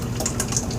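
Liquid for making coffee soap pours into a container in a brief, close, steady splashing gush.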